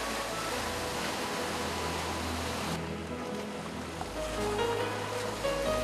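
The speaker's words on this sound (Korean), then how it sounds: "높은 파도에 배가 뒤집히지 않을까 걱정입니다." High ocean waves surge around a small wooden fishing boat off Chennai, India, a steady loud wash of surf and water that swells again toward the end.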